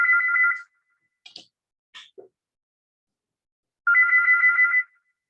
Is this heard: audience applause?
no